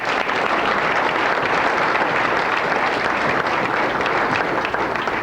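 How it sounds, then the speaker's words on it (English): Steady, dense applause from a banquet crowd at a chamber of commerce awards dinner, even and continuous throughout, no voices on top. "Let's give them a round of applause for"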